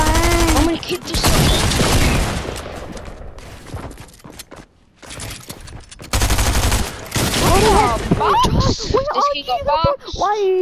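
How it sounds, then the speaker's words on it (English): Primal shotgun blasts in Fortnite: loud, punchy shots go off in dense clusters, tangled with overlapping excited voices and game effects. "Jai is using the worst shotgun in the game. He's using the primal shotgun."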